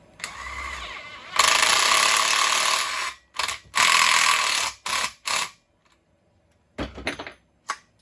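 Ratchet wrench driving a bolt into the engine case of a Husqvarna 2100 chainsaw, loud close ratcheting bursts that start long and then break into shorter clicks separated by pauses.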